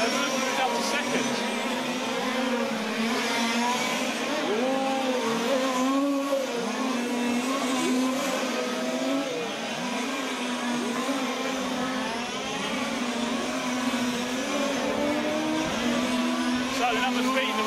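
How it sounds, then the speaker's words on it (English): Large-scale RC touring cars race around a track at the 2012 European championship, their motors whining and shifting pitch continuously as the pack passes, with commentary running over the engine noise throughout. "The race leader, Salon gets put up on his roof as he tries to pass the back marker"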